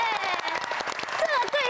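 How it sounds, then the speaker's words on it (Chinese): Audience applause at a children's talent TV show featuring taekwondo and dance troupes: a dense, steady wash of clapping that runs the whole moment, with a host's voice speaking over it. "掌声鼓励一下！"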